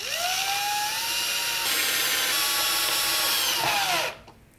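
A power drill drives long M3.5 screws into a rocket airframe, its motor whining up in pitch and holding a steady high buzz for about four seconds before cutting off abruptly.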